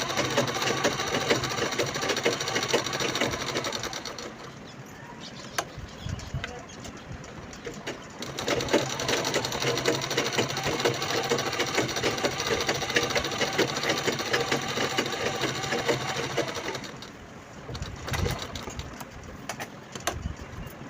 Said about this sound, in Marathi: चारी बाजूने आपल्याला शिलाई लावून घ्यायची आहे.